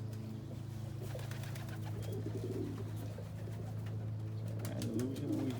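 Pigeons, including Andalusian and opal birds, coo inside a loft fly pen, their soft, repeated calls rising over a steady low hum at close range with no talking.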